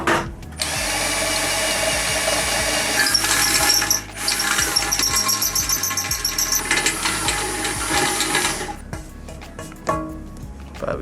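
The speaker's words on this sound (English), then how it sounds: "we decided to drill the hole from the back so it looks nicer" A power drill bores a hole through the back of a homemade LED studio light, running in two long, loud, whining bursts with a brief pause between them and a few clicks and handling knocks at the end.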